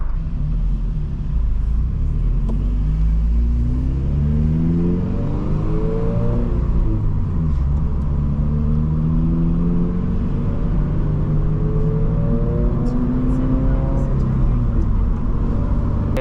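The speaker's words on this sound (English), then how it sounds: "Subarus, they make such unique noises. Especially with the unequal length headers" A Subaru BRZ boxer engine with unequal length headers rumbles and revs with a lumpy, uneven burble, rising and falling in pitch as it accelerates, close and continuous.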